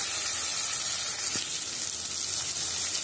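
Onion fries in a pan with ginger garlic paste, giving a loud, steady hiss of sizzling that carries on without a break and without voices.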